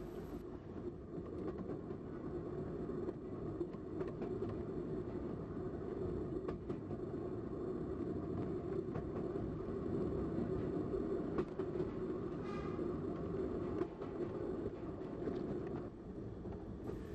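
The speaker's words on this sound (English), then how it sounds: "Further shunting is required to pick up three tar wagons." A mixed train shunts on an Irish branch line junction in the 1960s to collect three tar wagons, with a steady rumbling rail noise throughout, occasional clanks, and some wind buffeting the microphone.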